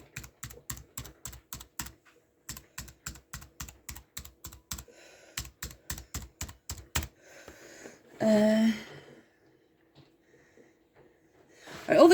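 Computer keyboard keys are struck one at a time in a quick, even sequence to test each key, sharp close clicks over about seven seconds, followed by a breathy snort and faint voice sounds.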